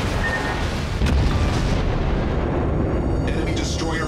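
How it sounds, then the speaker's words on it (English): An enemy destroyer explodes in the naval combat game World of Warships: a dense, loud, rumbling roar of blasts with a sharp burst near the start and a brighter crackling surge toward the end. "Enemy destroyer blown up."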